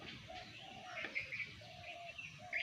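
Sparrows chirping at a night roost in a village, a few soft, faint calls and tweets repeating over low background noise.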